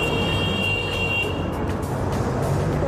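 Steady traffic noise fills a Paris street, with vehicles rumbling past nearby and a faint high whine over the dense background.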